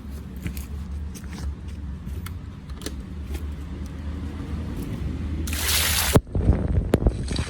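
Water sprays onto alloy car wheels during a rinse after cleaning, with scattered taps and handling noises first, then a burst of loud, close spraying and splashing near the end.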